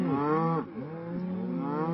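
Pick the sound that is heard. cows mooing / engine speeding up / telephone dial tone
cows mooing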